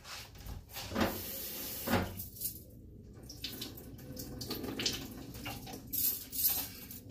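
Spinach for a smoothie rinsed under a running kitchen tap, water splashing unevenly with small knocks and clatters from handling, close, no talking.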